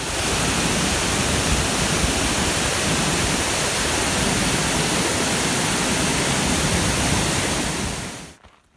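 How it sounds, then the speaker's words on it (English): Bernie Falls roars as a steady, dense wall of loud rushing water, unbroken for about eight seconds before cutting away abruptly. "We're going to go check out the waterfall right now."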